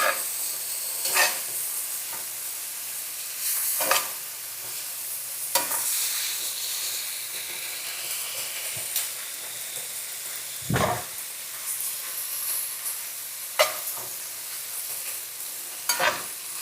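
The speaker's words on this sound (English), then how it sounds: "cook the peppers and onions slightly before you add the beef" Beef, peppers and onions frying together for a cheesesteak, a continuous hissing sizzle with repeated scraping stirs of a spatula against the pan.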